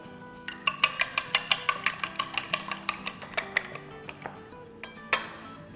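Two eggs are beaten with a utensil in a bowl, producing a quick, regular run of about fifteen bright metallic clinks that slows and thins out, then one last louder clink near the end.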